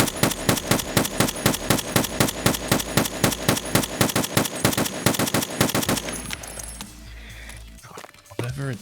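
An M1A rifle fires in Escape From Tarkov in a fast, steady string of sharp, loud shots for about six seconds, then the firing stops and quieter clinks and rattles follow, with a voice briefly audible.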